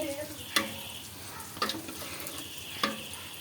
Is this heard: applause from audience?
no